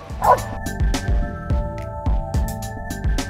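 A police K-9 dog barks repeatedly in quick, rhythmic bursts, loud and close, with some whimpering yips mixed in among the barks.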